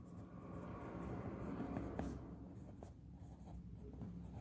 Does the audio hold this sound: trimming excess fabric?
no